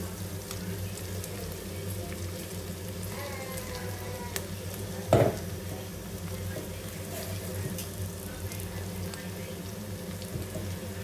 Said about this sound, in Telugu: ఆల్మోస్ట్ క్యాప్సికమ్ అన్నీ ఫ్రై అయ్యాయన్నమాట.